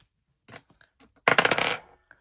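Dice tumble and clatter across a hard desk, a few light taps first, then a loud rattling burst that settles after about half a second.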